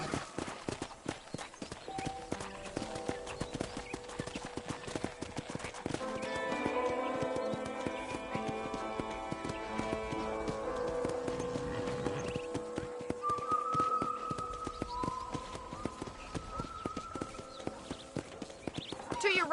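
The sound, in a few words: horse hooves clip-clopping while riding, from Red Dead Redemption video game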